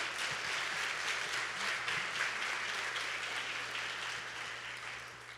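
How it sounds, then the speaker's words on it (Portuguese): A church youth-service congregation applauds, a dense, continuous wash of clapping from many hands, moderately loud and slowly fading toward the end, with a low steady hum underneath. "dá um aplauso para Jesus aí"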